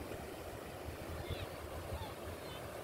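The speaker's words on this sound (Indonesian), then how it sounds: "ombak besar sudah." Big ocean waves roll onto a south coast beach facing the Indian Ocean, a constant dense roar of surf heard close by with no clear breaks.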